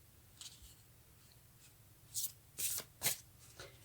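Tarot cards being shuffled by hand to draw a single card, a run of soft papery riffles and flicks building to three louder, crisp bursts near the end, close up with no voices.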